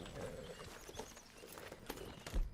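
Horse hooves clip-clopping in Red Dead Redemption 2, a faint, quick run of soft hoof beats under background game sound.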